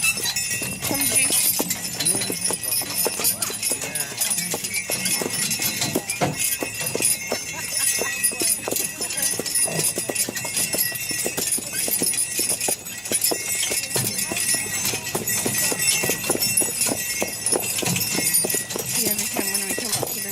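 Horses' hooves clip-clop steadily on a road during a winter festival ride, close and rhythmic, with a snort and harness rattle amid a continuous background hiss, and people talking over it.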